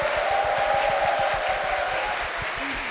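A church congregation applauds to welcome a guest, steady broadband clapping filling the room at an even loudness, with a sustained tone underneath and a brief vocal sound near the end.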